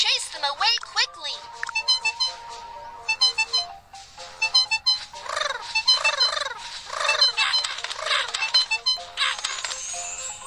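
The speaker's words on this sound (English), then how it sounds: "There are birds. Chase them away quickly." Cartoon birds in a tree make a busy run of chirpy, warbling and gobbling calls mixed with jingly game-style sound effects, loud and close, in rapid bursts.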